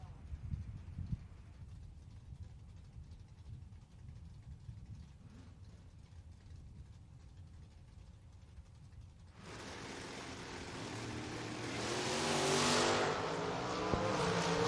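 Drag cars in a bracket race at the Hillbilly Bracket Bash, quiet crowd murmur at first, then a loud broadband roar from about nine seconds that swells as the cars launch and run down the strip, with an announcer's voice over the track.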